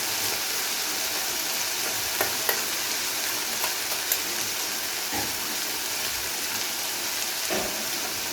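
Spiced masala for a dhaba-style egg curry fries steadily in a pan after a yogurt mixture is added, giving a continuous close sizzle broken by a few sharp spatula scrapes and clicks, with no talk.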